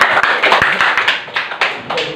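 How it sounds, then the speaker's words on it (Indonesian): Classroom clapping during a school entrepreneurship lesson, close, loud and somewhat uneven claps from a group of students in quick succession, with a few louder individual slaps standing out. "tepuk tangan untuk Gonjales."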